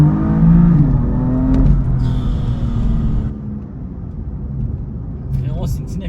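A BMW M4 CS sports car pulls hard with a deep, loud engine roar that rises and then eases into a steady drone, while someone talks over it.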